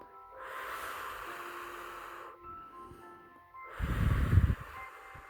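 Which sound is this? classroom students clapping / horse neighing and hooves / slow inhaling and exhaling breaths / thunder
slow inhaling and exhaling breaths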